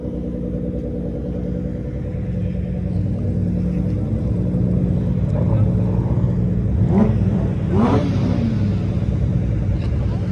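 A car engine idles and revs with a steady low rumble, with sharp popping bursts from a loud muffler near the end, close by and loud throughout.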